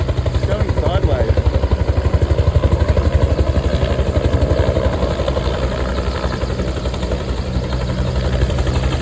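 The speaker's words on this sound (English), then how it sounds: "I don't know if Stormy would like the helicopters." A low, rapid rhythmic thumping of a helicopter rotor chops steadily and loudly, with engine drone throughout.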